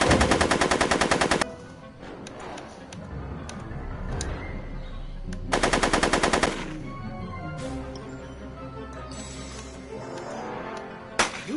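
Loud bursts of rapid automatic gunfire from a PS4 video game, two long sustained volleys separated by quieter stretches of game ambience and scattered single shots.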